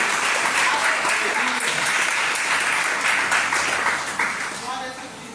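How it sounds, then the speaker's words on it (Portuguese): A church congregation applauds in a steady, loud wash of clapping with voices mixed in, fading slightly near the end. "Aplauda bem forte o Senhor aqui."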